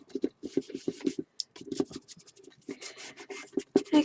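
Finish rubbed into a small wooden curio cabinet by hand, close rhythmic scratchy rubbing strokes in quick bursts, then looser irregular scrubbing.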